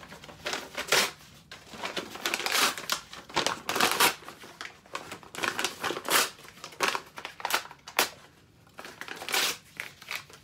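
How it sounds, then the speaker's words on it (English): Brown paper bags being crumpled and crushed by hand in repeated crinkly bursts, close up, with brief pauses between handfuls. "Now I start to crumble them."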